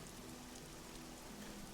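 Steady rain falls as a soft, even wash of drops in the background, quiet and unbroken from start to finish, with no voices.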